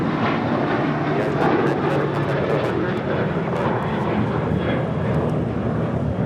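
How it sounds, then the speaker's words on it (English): A United Airlines Boeing 737-800 takes off from LAX bound for Phoenix, its engines a loud, steady broadband roar that fills the whole stretch, with talk faintly mixed in. "2602 taking off to Phoenix on a 737-800"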